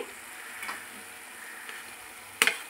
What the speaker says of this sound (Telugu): నెక్స్ట్ టమోటా వేసుకుందామండి.